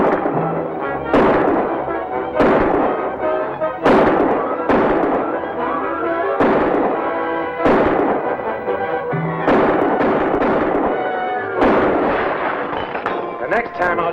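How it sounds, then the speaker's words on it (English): Rapid bursts of rifle and pistol fire ring out in a radio-serial shootout, loud sharp reports coming in irregular clusters, some echoing, layered over dramatic music and movement throughout. "Get to the window and start firing."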